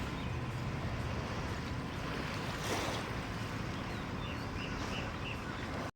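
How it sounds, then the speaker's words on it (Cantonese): Steady broadband wash of sea water at a quiet pier on Lamma Island, Hong Kong, continuous and fairly loud, with a slight swell of surf near the middle and wind noise throughout. "呢度係海邊， 即係碼頭嗰度啦"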